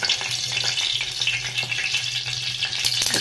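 Onions frying in hot oil in a pan while cooking an egg chop, with a constant close crackling sizzle and the occasional scrape of stirring, with no voices.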